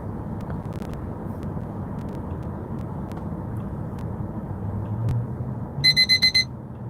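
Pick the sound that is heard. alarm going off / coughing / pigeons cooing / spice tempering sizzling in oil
alarm going off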